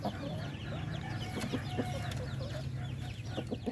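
A rooster and hens clucking and calling in a farmyard, several short close clucks over a constant background hum, with no speech.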